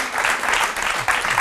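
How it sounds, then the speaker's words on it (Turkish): Studio audience clapping on a Turkish daytime TV talk show, a steady dense wash of applause throughout, fairly loud and close, with no voices over it. "kocaman alkışlar rica ediyorum"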